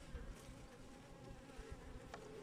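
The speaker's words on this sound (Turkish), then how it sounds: "Evet bu da Özgür'ün arısı" Honey bees at an opened beehive in a Turkish beekeeping yard hum in a dense, continuous buzz, close and fairly loud, with no voices.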